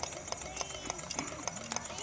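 A homemade wood-fired Stirling engine driving a generator runs steadily, a soft mechanical hum punctuated by regular rhythmic clicks or knocks roughly every quarter second, faint and close.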